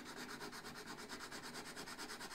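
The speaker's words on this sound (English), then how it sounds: "So I will clean the fingerboard more or less." Steady, close rubbing on the fingerboard of a Chapman guitar during a fret setup, a dry, even scrubbing stroke that repeats in a quick, regular back-and-forth rhythm with no voices.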